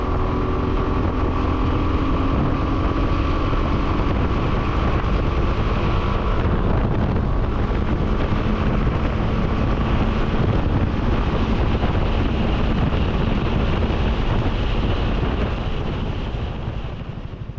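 Suzuki Burgman 400 scooter cruising at highway speed of about 110 km/h: a loud, constant roar of wind buffeting the microphone, with the engine drone underneath.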